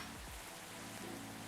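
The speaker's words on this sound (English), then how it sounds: "The rain just picked up so much outside." Steady soft rain falling outside in the video game Coffee Talk, a faint continuous hiss with a couple of low thumps near the start.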